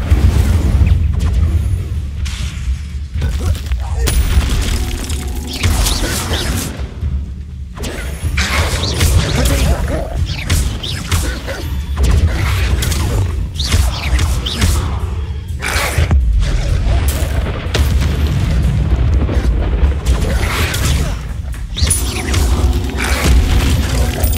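Incendio fire spell blasts in Hogwarts Legacy combat: repeated loud, bursting whooshes and booms mixed with clattering impacts, packed densely over a continuous rumble, with no talk heard.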